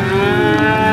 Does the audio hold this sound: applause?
no